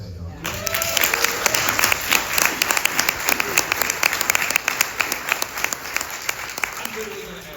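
Audience at a Fan Expo Chicago 2024 convention panel claps and applauds steadily throughout, a dense wash of many hands with a few louder, closer claps standing out.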